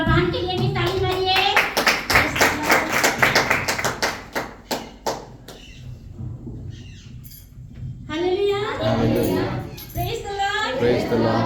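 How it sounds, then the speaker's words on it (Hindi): A church congregation claps together during a service, the sharp claps packed densely for a few seconds, then thinning out into a few scattered claps before voices rise again. "सब मिलान के लिए भी ताली मारिए।"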